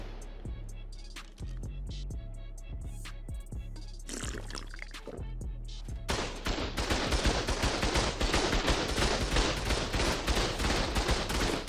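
Turrets fire in the game Ark, first as scattered sharp shots and then as a fast, steady barrage that grows louder and denser and keeps going with hardly a break.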